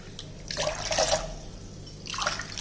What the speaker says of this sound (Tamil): அரிசி எடுத்த அதே கிளாஸில் 4 கிளாஸு தண்ணி ஊற்றிக்கோங்க.